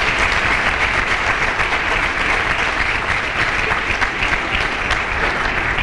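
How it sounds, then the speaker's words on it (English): A luncheon audience at an MLK event breaks into sustained applause for a guest named Carl, dense steady clapping filling the room without letup and no talk over it. "Let's give Carl a round of applause."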